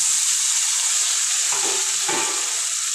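Onion and freshly chopped tomato fry in a pan for a tomato curry, giving a constant loud sizzle with a couple of brief stirring scrapes midway.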